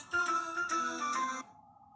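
Incoming-call ringtone from a Noise ColorFit Pulse Grande smartwatch: a bright, loud tonal melody in repeated phrases, cutting off after about a second and a half, leaving faint room tone.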